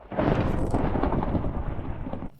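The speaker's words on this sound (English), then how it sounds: "But when I got home, I heard a thunderstorm." A rolling thunderclap in a Minecraft thunderstorm booms loud and full for about two seconds, a deep rumble that swells quickly and then cuts off.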